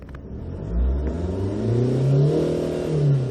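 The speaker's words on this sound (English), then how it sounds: "let's try to accelerate and see the RPMs movement here and listen to the sound of the engine" A Kyron diesel SUV engine is revved twice, climbing in pitch, briefly easing off, then surging again in a deep, close roar.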